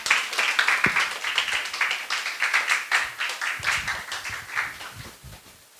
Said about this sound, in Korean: 우리 선교사님 앞으로 나오실 때 다시 한번 박수로 환영하도록 하겠습니다